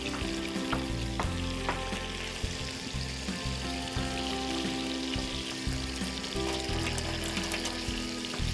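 Food sizzles and fries steadily in a pan in a home kitchen, with scraping stir sounds and soft clinks over a continuous hiss, close and fairly loud with no talking.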